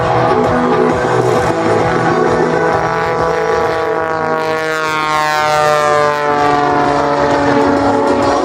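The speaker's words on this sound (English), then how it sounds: "Listen to the sound of that light moving engine as it pulls the little tiny biplane skyward." A Pitts Special biplane's engine drones loud and near as it climbs at an airshow rehearsal in Rome, Georgia, a steady propeller buzz with a shifting pitch as it pulls away.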